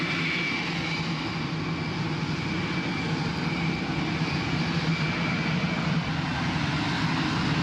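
An F-35 Lightning II jet engine throttles up, a loud, continuous roaring rumble with a thin steady whine riding over it, holding strong and even throughout, heard close with no talking.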